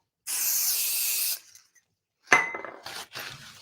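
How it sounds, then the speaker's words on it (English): Spray hand sanitizer hisses onto a glass craft mat in one sustained burst of about a second, followed after a pause by light clinks and taps of handling on the glass, close and clear with no talk. "So I just use a bit of spray hand sanitizer"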